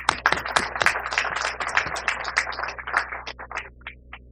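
An audience at a Haitian ceremony for the handover of vehicles to the national police claps in a dense, steady burst of sharp handclaps that thins out toward the end, with no talking over it.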